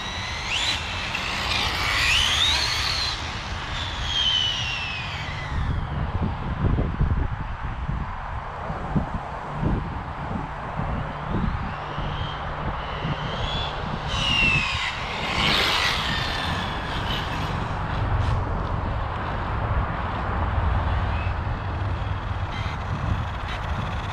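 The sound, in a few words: Arrma Limitless RC car running at speed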